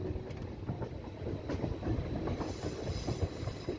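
A train on the Kollam–Tenkasi line rumbles steadily along the tracks near Aryankavu, wheels clacking in an uneven rhythm with a hiss rising toward the end, heard from inside.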